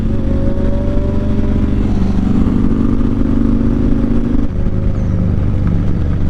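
Steady, loud engine drone from a motorcycle cruising along a road, a constant mid-pitched hum with a slight shift in tone partway through and no voices.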